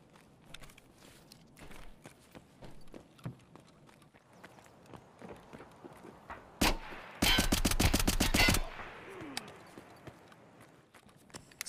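Gunfire in Escape From Tarkov: one sharp loud shot, then a rapid string of about a dozen single-fire shots in quick succession, over faint footsteps and movement.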